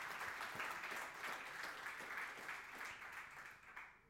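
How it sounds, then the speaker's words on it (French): Audience applause at a press conference for the relaunch of the 3Suisses brand, a steady, even crowd clapping heard somewhat distantly and fairly quietly, tapering slightly toward the end. "On peut l'applaudir."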